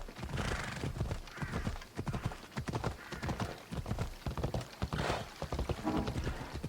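Horse hooves clip-clop in a quick, steady rhythm in the video game Assassin's Creed Odyssey, close and clear, with a neigh rising partway through.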